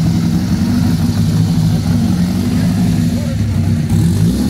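A Ferrari 750 Monza with the first Pininfarina body rumbles loudly and steadily at close range at the Pebble Beach Concours, a deep continuous engine drone with faint voices mixed in.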